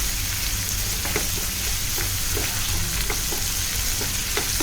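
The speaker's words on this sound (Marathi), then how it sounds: "आणि छान आता टोमॅटो मऊ होईपर्यंत आपल्याला परतून घ्यायचं आहे." Chopped tomato sautéing in a pan for a Malvani-style fish curry, a steady close sizzle with occasional soft scrapes of stirring, no voices.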